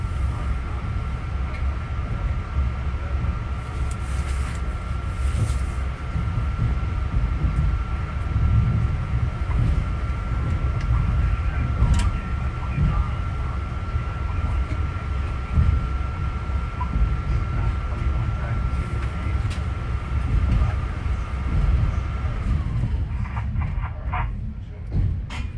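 A Long Island Rail Road M3 electric train on the Brooklyn shuttle rolls steadily along the track, a loud continuous rumble heard from inside the cab with a faint steady whine, easing off near the end.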